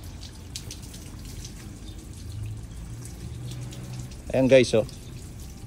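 Water is poured over a car body freshly coated with sealant, giving a soft trickling splash under a voice, which rises into a brief, louder gush of pouring near the end.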